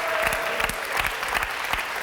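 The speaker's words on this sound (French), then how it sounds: "Applaudissements pour Astrid." Studio audience applause on a French television game show, a steady dense clapping that fills the whole short stretch at close range.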